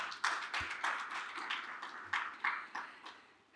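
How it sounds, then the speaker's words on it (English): Faint, distant applause from an audience at a biodiversity finance talk, a soft patter of clapping that swells and fades without any voices. "A round of applause for Campeta."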